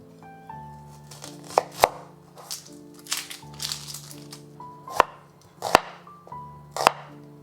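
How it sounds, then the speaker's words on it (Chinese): A knife cuts half an onion into thick slices on a cutting board, giving a string of crisp, crunchy chops at an uneven pace. The chops are close and loud, over soft background music. "半个洋葱切厚片"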